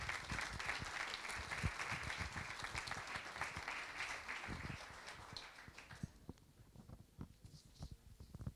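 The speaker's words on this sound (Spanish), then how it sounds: "Así que un aplauso para él." An audience at an international volleyball congress in Barcelona applauds a presenter, a close, crackling burst of many clapping hands that holds steady, then thins out to scattered claps before stopping.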